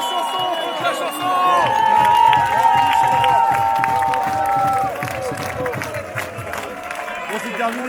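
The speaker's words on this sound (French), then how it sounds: "c'est le public qui applaudit même les joueurs de Charleroi" Football crowd applauding the players at the end of a Union Saint-Gilloise versus Charleroi match, a broad steady wash of clapping and cheering from the stands with a voice talking over it.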